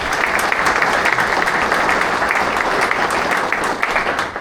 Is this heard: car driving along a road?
no